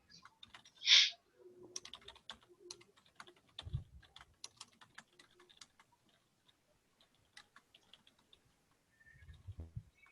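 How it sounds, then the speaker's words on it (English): Quiet keystrokes on a computer keyboard in short, irregular runs, with one sharp, louder click near the start and a soft thump later, in an otherwise silent room. "I'm just going to type that in."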